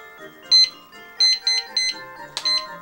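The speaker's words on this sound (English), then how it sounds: "Okay, there's the timer." Electronic timer chimes from the Mario Party video game: a run of short, bright beeping tones in uneven bursts, several close together, loud and clear with no talking over them.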